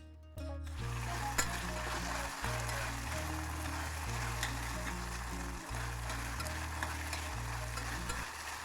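Onions and tomatoes sautéing in a pan for egg curry, a steady loud sizzle and frying hiss with stirring scrapes running throughout, no voices over it.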